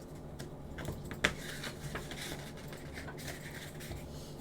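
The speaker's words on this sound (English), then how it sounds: "She's typing very fast." Fast typing on a family computer keyboard, quick light irregular key clicks with one sharper tap, soft and close, no voices.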